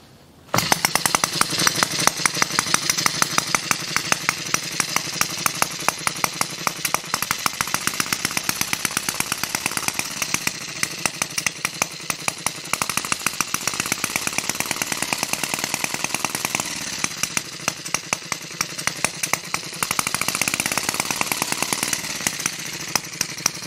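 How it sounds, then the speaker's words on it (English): A Webster engine runs with its exhaust output restricted, giving a loud, fast, continuous rattling clatter of rapid rhythmic pulses that holds steady throughout with no talking. "putting some sort of restriction across the exhaust output caused the engine to apparently run significantly faster"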